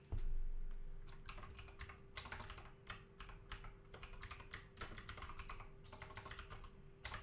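Rapid keyboard key presses, close and crisp, come in uneven bursts with short pauses while a name is typed in Ark Survival Evolved.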